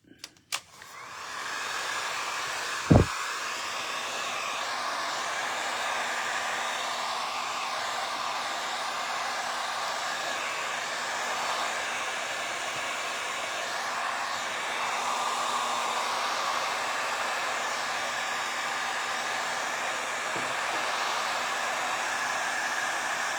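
Hair dryer blowing steadily on a resin craft piece for over twenty seconds, a continuous close whooshing hum after a couple of small clicks at the start, with no talk.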